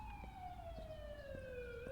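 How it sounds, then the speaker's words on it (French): A wailing ambulance siren in the video game The Coma, its tone sliding steadily downward as the vehicle passes, heard alone over a low background rumble. "c'est quoi cette ambulance"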